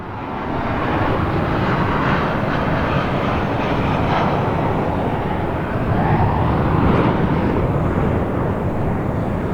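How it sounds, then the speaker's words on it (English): An airplane comes in overhead, a broad, sustained roar that holds loud and steady, swelling slightly toward the end with no talking. "There's another plane coming in."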